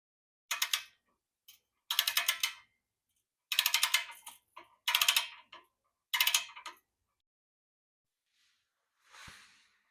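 A torque wrench ratchets in five quick bursts of sharp metallic clicking while tightening Subaru BRZ exhaust bolts to 61, each burst close and crisp, separated by short silences, followed by a faint rustle.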